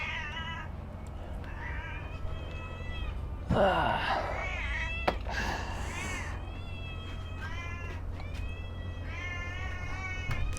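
Several cats meow repeatedly, close by, with high drawn-out cries overlapping at times, over a low steady background hum.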